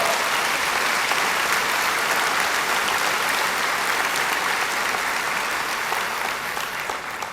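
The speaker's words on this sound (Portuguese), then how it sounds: "Pode aplaudir, Jesus é digno." A church congregation bursts into sustained, dense applause during a sermon, a loud, even wash of clapping that continues without pause and fades a little at the close.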